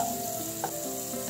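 Onion and garlic sautéing in a pan for clams with vegetables, a steady close sizzle with a faint stirring scrape, no talk.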